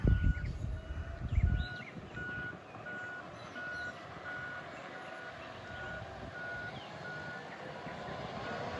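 A steady series of evenly spaced reversing beeps from a truck sounds in the distance over a low rumble, after a brief loud thump at the start.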